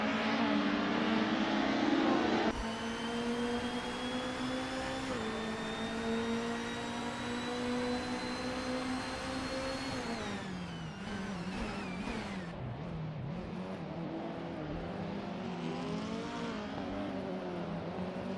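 Race car engines in a racing video game, with a 2008 Lada Priora among the field, drone continuously with steady high whines that shift pitch through gear changes, loud and unbroken, with no talk.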